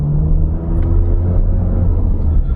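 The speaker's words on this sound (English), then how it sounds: "I'm gonna accelerate from a stoplight" A 2025 Nissan Murano with a 9-speed automatic pulls away from a stoplight, its engine a steady low rumble heard from inside the cabin, swelling slightly throughout.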